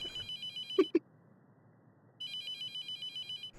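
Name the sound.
phone ringing in a video game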